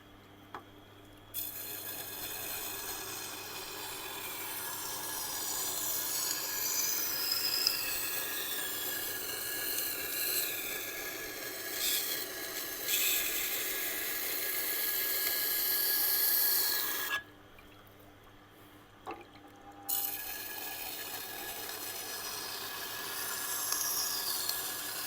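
Kitchen knife drawn repeatedly across a resin bonded diamond sharpening stone while a burr develops, a steady close rasping scrape lasting most of the time with two short pauses.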